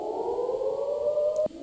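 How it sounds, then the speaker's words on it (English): Synthetic siren effect in an FL Studio music mix, a single sustained wailing tone slowly rising in pitch, loud and alone, cut off abruptly near the end. "It's a siren."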